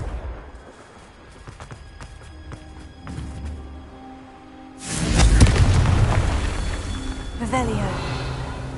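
A Confringo spell in a Hogwarts video game sets off a loud, sudden fiery blast that rumbles and fades over several seconds, following quieter crackling effects.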